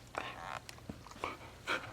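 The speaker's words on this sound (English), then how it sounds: "You can probably hear my dog breathing on the side." A dog pants and breathes off to the side, with soft, faint huffs and snuffles in a quiet room.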